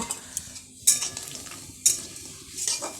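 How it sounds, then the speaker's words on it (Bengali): Dried lentil dumplings (bori) frying in oil, a faint sizzle with two sharp spatula scrapes against the pan and a softer stir at the close. "তারপর আমি বড়িগুলো ভেজে নেব"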